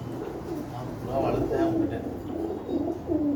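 Pigeons at a poultry market coo repeatedly in soft, low rolling phrases, fairly close, with a steady background hum of market activity and some indistinct voices.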